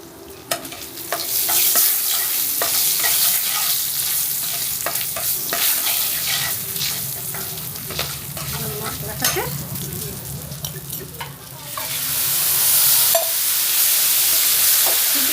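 Dried red chillies frying in oil for pachon, a loud crackling sizzle with frequent stirring scrapes and clatter, rising to a stronger hiss toward the end.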